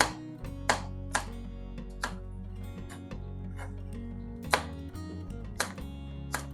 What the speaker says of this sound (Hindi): ये हमने 5 अदद सब्ज मिर्च ली हैं, इसे आपने रफ काट के डाल लेना है।